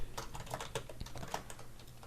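Fingers tap quickly on a computer keyboard that sits partly hidden behind a microphone, producing a close, steady patter of light plastic key clicks with no voices.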